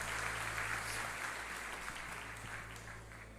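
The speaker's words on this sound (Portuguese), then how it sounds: "dando a Jesus uma linda salva de palmas" Church congregation applauding together, a steady, even wash of clapping that holds at moderate loudness and fades slightly toward the end, with a low hum underneath.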